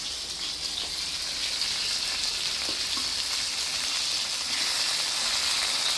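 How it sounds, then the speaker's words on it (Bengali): Fish sizzling steadily in a hot pan of oil just after being turned, a close, continuous bright crackle and hiss with no talk over it. "মাছগুলি এখন উল্টাই দেব।"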